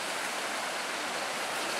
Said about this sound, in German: schöner breiter Fluss schon.